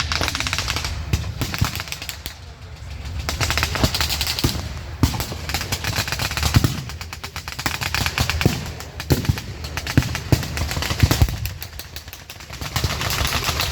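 Rifle gunfire at a World War 2 reenactment in Rockford, Illinois, with M1 carbines and semi-automatic rifles: continuous crackling volleys of sharp shots, some close and loud, others distant, layered with rapid bursts throughout.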